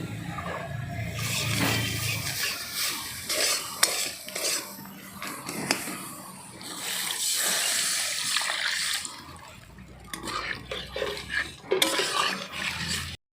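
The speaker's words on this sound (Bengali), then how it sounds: "এবার এর মধ্যে জল দিয়ে দিব" A metal spatula stirs and scrapes through a pan of mashed raw mango chutney after water is added, giving steady wet sloshing and clinking with intermittent louder scrapes and no voices.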